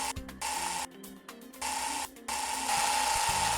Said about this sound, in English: underneath the round discussion is 4 Phillips head screws that hold the adapter plate on, which will remove those 4 screws